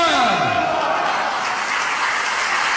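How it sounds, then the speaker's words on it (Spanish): An audience applauds Malvinas war veterans at a talk in Corrientes, a dense, steady wash of clapping with a voice heard briefly at the start. "Y aplausos a los combatientes arriba."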